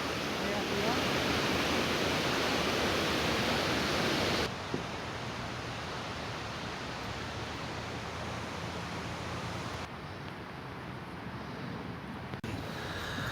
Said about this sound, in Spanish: cuando ya has visto la cascada esa que cae